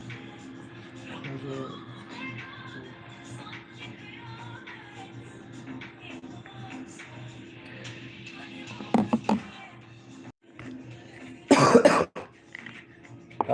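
A man coughs near the microphone. A few sharp coughs break through quieter background sound, and the loudest burst comes near the end.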